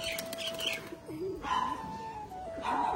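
A foreign pigeon released from its cage takes off, with a quick burst of flapping at the start followed by soft cooing and chirping nearby, heard alone without talk.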